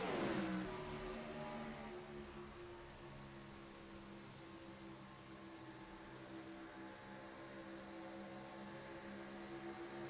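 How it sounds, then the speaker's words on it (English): Race car engines roar loud and steady on the backstretch of Michigan International Speedway in iRacing, a dense sustained drone of several cars with layered harmonic whine after a brief sharp onset, no talk. "Definitely on the backstretch, these race cars are super loud"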